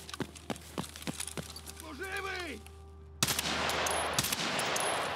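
Rapid bursts of automatic gunfire in Escape from Tarkov, with sharp repeated cracks in quick succession, the last stretch a dense continuous volley, loud and close, over steady background noise.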